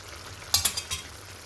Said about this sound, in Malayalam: ഇതൊന്ന് വഴറ്റി റെഡിയാക്കി എടുക്കാം.